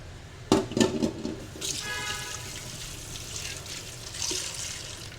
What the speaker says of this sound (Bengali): এখন পানি অ্যাড করে দিব।